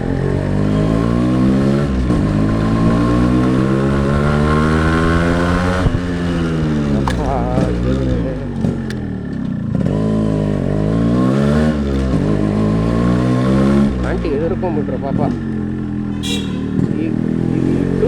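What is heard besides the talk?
Yamaha RX135 motorcycle being ridden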